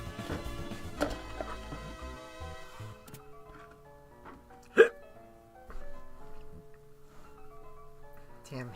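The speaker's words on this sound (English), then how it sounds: "Damn hiccups." One sharp hiccup pops out near the middle against quiet background game music, loud and brief.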